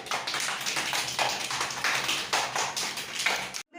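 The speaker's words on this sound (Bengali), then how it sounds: "হাততালি দেওয়ার জন্য সবাই" Children in a classroom quiz clapping their hands together, a close run of quick irregular claps for about three and a half seconds before stopping abruptly.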